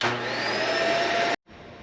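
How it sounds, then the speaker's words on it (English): A vacuum cleaner roars steadily at close range, cuts out abruptly, then resumes more quietly a moment later. "I can still hear the vacuum running."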